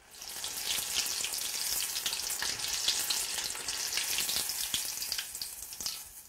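Pearl onions deep-frying in hot oil, a bright, bubbling crackle that stays steady and fairly close throughout with no voices.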